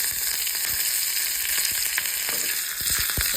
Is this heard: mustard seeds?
yes